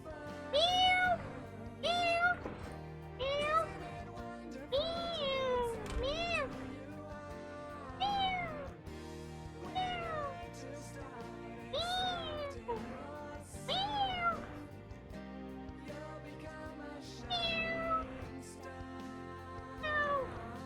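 A human voice imitating a cat's meow, repeating a string of drawn-out, rising and falling meows with short pauses between them, up close and alone.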